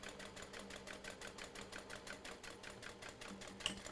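A sewing machine stitches fabric for a portable gaming console case, a quiet rapid rhythmic clatter of the needle at a steady pace, close by and alone.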